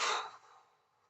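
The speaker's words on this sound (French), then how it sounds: "J'inspire, je relâche." One deep breath released during a calming breathing exercise for anxiety, a soft airy exhale close to the microphone that starts strong and fades away within about a second.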